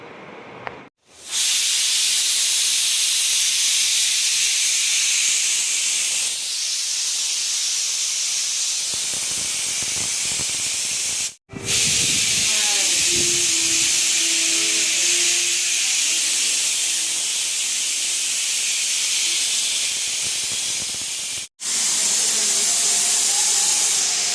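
Loud, continuous hiss of steam escaping under pressure from a pressure cooker making tomato rice, broken by two brief pauses before the jet resumes at full force.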